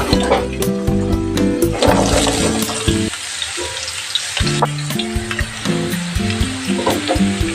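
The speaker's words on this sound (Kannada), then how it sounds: "ಇದಕ್ಕೆ ಸ್ವಲ್ಪ ಆಯಿಲ್ನ ಸೇರಿಸ್ಕೊಂಡು ಹೀರೆಕಾಯಿನ ಫ್ರೈ ಮಾಡ್ಕೊಳ್ಳೋಣ" Ridge gourd frying in oil in a pan, with a steady close sizzle and busy scraping and stirring clatter throughout, easing briefly midway, with no talking.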